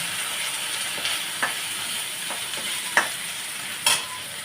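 Ginger paste and spices fry in oil for a vegetable dal, a low, steady sizzle broken by a few sharp scrapes and taps of a stirring spoon against the pan.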